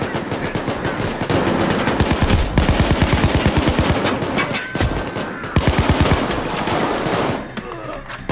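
Rapid automatic gunfire from a firefight in the Payday 2 beta video game, loud and dense bursts of shots filling the clip with brief pauses, over a busy game soundscape.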